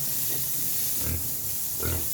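A pet pig grunts in a few short, low snorts over a steady hissing background of running water or wind, close by.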